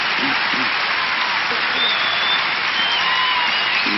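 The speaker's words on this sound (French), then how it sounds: "C'est presque une ovation." Wimbledon crowd on the centre court in 1987 giving sustained, dense applause close to an ovation, a loud and even wall of clapping with a few faint voices beneath.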